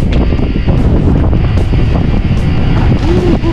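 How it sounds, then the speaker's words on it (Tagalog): Strong wind buffets a small fishing boat out at sea, a constant loud roar against the microphone with water splashing and wave wash underneath, steady throughout without speech. "Malakas na rin kasi yung hangin eh."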